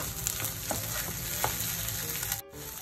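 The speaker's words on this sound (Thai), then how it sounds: "เรานำแครอทกับหัวหอมที่ผัดไว้ลงไปผัดด้วยกันค่ะ" Carrots and onions stir-frying in a pan for Japanese egg fried rice, a steady dense sizzle with faint scraping stirs running throughout, briefly dipping near the end.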